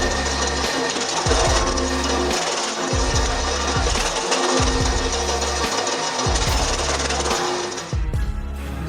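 A forestry machine saws through small logs, sending wood chips flying; a loud, dense mechanical roar runs throughout with repeated heavy cutting bursts and thuds at regular intervals, continuous and close.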